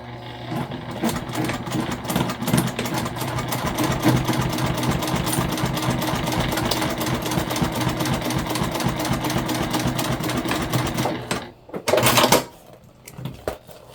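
A sewing machine stitching jelly vinyl runs in a loud, steady mechanical whir with rapid needle clatter for about eleven seconds, then stops and gives a short final burst.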